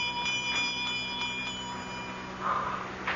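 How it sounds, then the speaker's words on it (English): A small bell rings in an old-time CBS mystery radio drama, with thin, repeated, tinny rings at a steady pace and a slightly louder stroke near the end, heard alone at moderate volume. "I'm trying to see where that bell came from."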